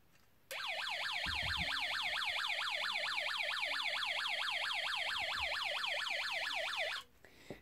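A Snap Circuits alarm circuit sounds a loud, steady warbling electronic siren that rises and falls rapidly for about six and a half seconds, starting and stopping abruptly.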